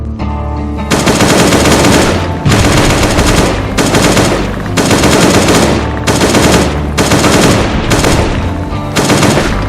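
Loud automatic gunfire from shooting swamp zombies in Last Day on Earth: Survival, about seven long rapid bursts separated by brief gaps, close and dominant with no voices.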